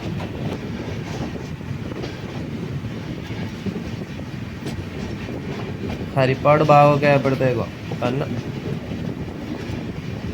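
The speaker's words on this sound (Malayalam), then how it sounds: "മാംഗ്ലൂരിൽ നിന്ന് തിരുവനന്തപുരം സെൻട്രലിലോട്ട് പോകുന്ന ഏറനാട് എക്സ്പ്രസ്." The Eranad Express 16605, running from Mangalore to Thiruvananthapuram Central, rumbles steadily along the track with rhythmic wheel clatter. Someone talks over it, and a louder burst of rolling noise rises briefly near the middle.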